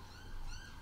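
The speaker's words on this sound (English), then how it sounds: "you can hear the police car outside" A distant police car siren wails with rising and falling tones outside, faint beneath steady background noise, heard for a brief moment.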